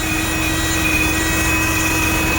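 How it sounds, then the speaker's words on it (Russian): A loud diesel engine of a Ural 4320 truck, first started after storage, runs steadily with a dense, constant rumble and a faint high whine, no speech. "Мотор так работает мягко."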